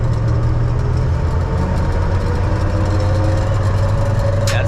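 An all-original 1976 Ford F-250 Custom pickup with a replaced steering box, driving in third gear, gives a steady low engine drone. The sound is heard from inside the cab and runs continuously, with no talking.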